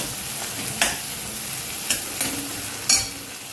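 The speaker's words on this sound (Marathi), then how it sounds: "आपण आता हा मसाला याच्यात चांगला भाजून घेऊया" Masala roasting in hot oil for butter paneer cashew curry sizzles steadily up close, broken by three sharp spatula scrapes against the pan.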